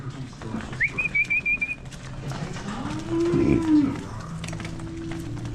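Dairy cows moo in a cow shed, one drawn-out low moo in the middle, with a bird chirping earlier and faint background shed noise.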